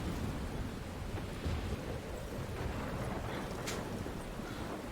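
Thunderstorm with steady rain from the opening of the video game Life is Strange: a dense, continuous wash of rain with low rumbling thunder rolling underneath throughout.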